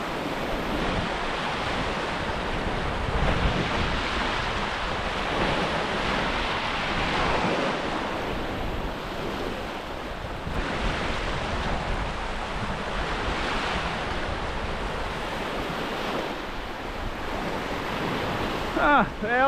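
Waves washing onto a sandy lake beach in steady wind, continuous rushing surf with gentle swells rising and falling and constant wind noise buffeting the microphone, fairly faint overall with no clear speech.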